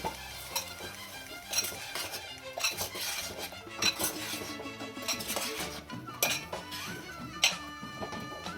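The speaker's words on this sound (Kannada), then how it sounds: "ರುಬ್ಬಿರೋ ಮಸಾಲೆ ಹಾಕ್ತಾಯಿದ್ದೀನಿ. ಇದನ್ನು ಹಾಕಿ ಚೆನ್ನಾಗಿ ಬಾಡಿಸಿರೋಣ." Ground masala goes into capsicum in a pan and is stirred vigorously, with frequent metallic clanks and scrapes of a spoon against the vessel over a faint sizzle.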